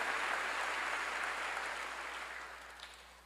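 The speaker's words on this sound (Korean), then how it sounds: "전 세계가 하나 돼가고 있는 걸 믿으면 박수로 하나님께 영광 돌려야 됩니다" A church congregation claps together during a sermon, a thick even roar of many hands that slowly fades in loudness over a few seconds, with a faint low hum beneath it.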